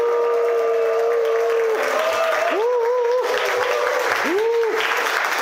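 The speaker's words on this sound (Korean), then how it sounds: "박수 함성 크게 치면서 한번 해보겠습니다" Audience at a Korean talk clapping and cheering loudly for about three seconds, a dense steady wash of applause with shouted cheers and whoops rising over it.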